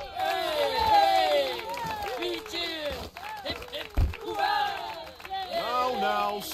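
Cartoonish crowd cheering in the video game Thank Goodness You're Here!, a loud chorus of excited voices rising and falling in waves across the whole stretch, close and lively.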